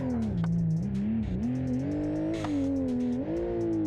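Engine of a modded car in BeamNG Drive rising and easing in repeated revs, a loud, steady droning whine with small pitch swells and light clicks on top, no talking.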